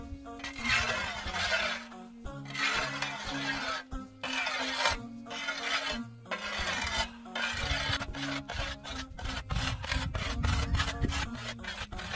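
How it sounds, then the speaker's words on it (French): A whetstone is stroked along a scythe blade, with long rasping passes that give way to quicker, shorter strokes. The rhythm is even and close, and a voice speaks at times between the strokes. "Et je termine par utiliser la pierre à faux."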